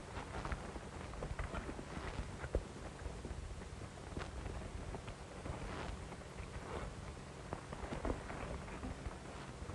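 Horses' hooves clip-clop irregularly on the ground throughout, mixed with gusty wind noise and rustling, at moderate distance, in a 1956 western film.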